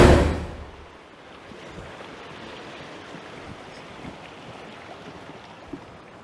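A loud woodland stream rushes beside a small footbridge, a steady, even wash of running water that stays constant and moderately distant after a brief louder rustle at the start, with no talk.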